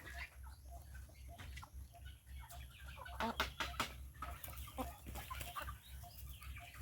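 Chickens on a farm cluck and squawk at moderate distance over a steady low hum, with a few sharper calls and rustling midway.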